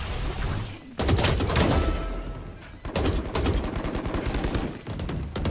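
Gunfire in the video game Valorant, loud close bursts of rapid automatic shots in three main volleys separated by short pauses, each burst a fast, even rattle.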